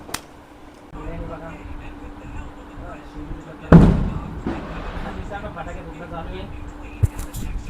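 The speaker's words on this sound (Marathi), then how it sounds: "फटाके फुटणं चालू आहे" New Year firecrackers go off nearby: one loud, sharp burst followed by a few lighter pops, under people talking throughout.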